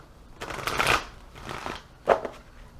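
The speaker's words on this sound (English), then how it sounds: "And you see I'm shuffling." A deck of energy cards shuffled close up in quiet bursts, a soft riffling patter followed by a second brief flurry, with no talk over it.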